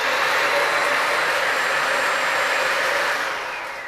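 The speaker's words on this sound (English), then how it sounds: "The vacuum itself makes a decent amount of noise." A Bissell Symphony Pet steam vacuum runs with a steady, loud broadband whoosh and a faint high whine, holding constant before easing slightly at the end, with no voices.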